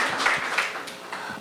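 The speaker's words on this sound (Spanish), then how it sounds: "Le damos un fuerte aplauso para recibir al doctor." An audience applauds at a university lecture event, a brief burst of scattered clapping that is fairly close and moderately loud, with a faint voice underneath.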